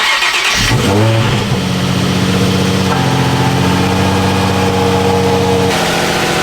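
A 2004 Subaru STI cranks over on a cold start and fires up, settling into a steady, loud idle with a low rumbling hum and faint whine.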